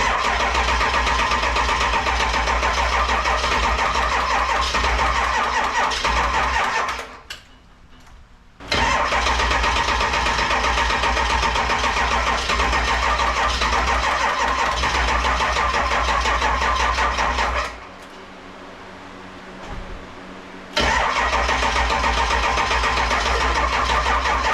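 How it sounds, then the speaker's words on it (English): Ford 7.3 Powerstroke diesel swap turning over under a slow, labouring starter, with long loud cranking bursts broken by two brief pauses; no voices. "It cranks good, and then it slows down so much that it won't do anything."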